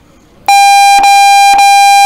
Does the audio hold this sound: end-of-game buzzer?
yes